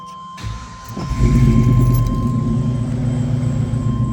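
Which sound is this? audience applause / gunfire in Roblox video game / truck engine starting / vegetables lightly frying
truck engine starting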